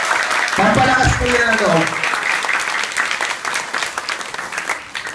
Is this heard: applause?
yes